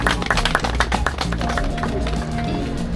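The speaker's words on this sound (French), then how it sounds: "On peut les applaudir en vrai, on peut les applaudir parce que" An audience claps and applauds at a manga launch bike ride, a steady patter of many hands that stays even throughout, with a few voices underneath.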